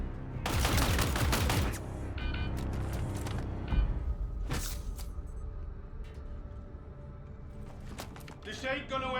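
Covering gunfire in a video game, a dense close burst of rapid automatic shots at the start, then scattered single shots and impacts, with a voice speaking near the end.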